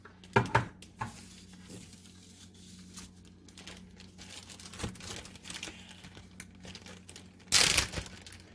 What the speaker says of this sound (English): I'll put it on a paper plate and show it to you.